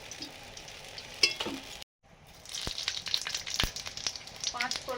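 Spices tempering in hot oil for a fish curry, a close crackling sizzle with sharp pops and stirring scrapes, briefly cutting out before resuming more intensely.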